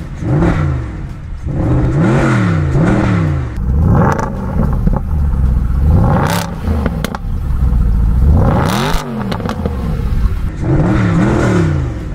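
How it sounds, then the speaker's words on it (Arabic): A Mercedes SLS AMG engine, close and loud, revs again and again, each blip rising and falling in pitch, with a sharper burst near the middle and a roaring peak later, then settling between revs. "طبعا العربيه بتدور هنا من الزرار ده، تفتحيها كده وبعدين ايه تسمعوا بقى دواره، وهتسمعوا صوت جميل"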